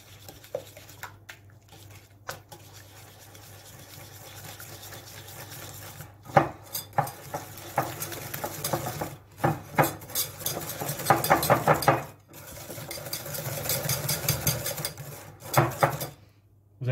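An egg is mixed into galette frangipane batter in a bowl, heard as irregular clinking and scraping strokes that grow busier and louder toward the end, close and without talk.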